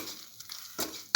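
A spoon stirs turmeric powder into a coconut and egg mixture in a pan, giving a few brief scraping strokes, close and fairly quiet, with a sharper scrape at the end.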